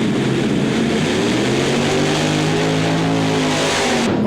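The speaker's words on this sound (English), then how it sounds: "5 Ford engines that normally power big American cars are giving Hans a great ride" Pulling tractor with five Ford big-car engines roars loudly and steadily at a 1995 European tractor pulling event in Rotterdam's Ahoy, engine note rising in pitch through the run before cutting off near the end.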